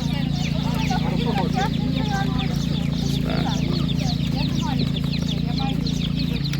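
Many tiny chicks at a livestock market peep and cheep constantly in high, rapid chirps over a steady low hum, with a voice talking nearby.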